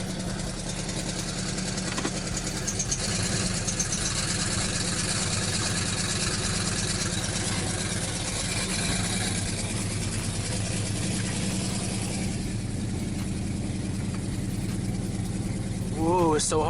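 A car engine idling high during troubleshooting, a steady, fairly loud drone with a few rises in pitch near the end and occasional speech alongside.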